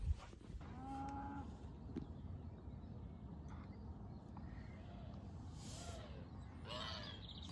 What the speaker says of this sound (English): can hear cows, and they sound like they're in close proximity.